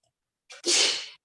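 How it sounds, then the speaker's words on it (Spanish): A single sneeze bursts out during an online meeting, a short sharp intake followed by a loud broadband blast lasting about half a second, heard alone against silence. "ahí todavía hay alguno que está estornudando"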